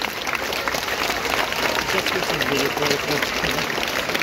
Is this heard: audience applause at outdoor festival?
yes